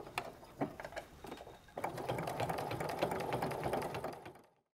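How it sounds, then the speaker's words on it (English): A sewing machine stitches around the top of a handbag in quilting cotton or cork and canvas. A few short bursts give way to a steady run of rapid needle clatter that fades out at the end, close and fairly quiet. "we're just gonna stitch all the way around twice around the top, and we're doing that with just our regular quarter inch stitch"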